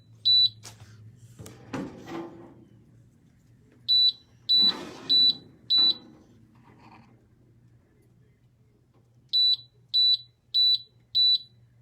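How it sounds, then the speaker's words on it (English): High electronic oven beeps come in quick groups of four, twice clearly, over a low hum, with some clattering and a brief voice between. "my oven beeps too fast"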